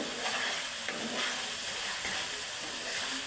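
Prawns sizzle in a hot pan with a dense, even hiss and crackle that holds steady and fairly loud for a few seconds, with no voices.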